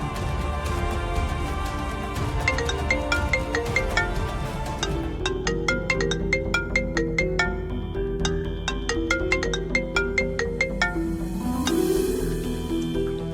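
A phone ringtone plays as a call is placed in a Tamil TV serial, a bright repeating electronic melody with even pulses that runs on for several seconds, alone and with no voices.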